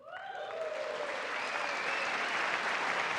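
Audience applause swells in the chamber during a State of the Union address, rising quickly into a dense, steady wash of clapping from a large crowd.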